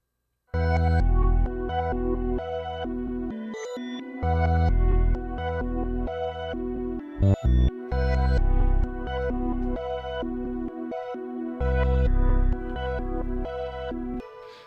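Music sample with time-based effects, sections cutting in and out with brief gaps and echoing tails, loud and full throughout.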